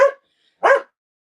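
Two sharp, loud dog barks sound close by, about half a second apart, with silence between and after them.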